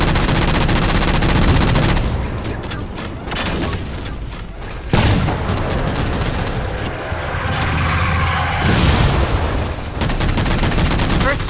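Gunfire in the video game Halo 4 aimed at shooting down jammers: loud bursts of rapid automatic shots and booming blasts, close and intense, with brief pauses between volleys.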